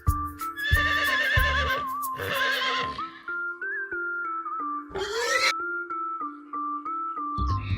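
A horse gives a loud shrill whinny at the start and another shorter neigh midway, heard over light rhythmic music.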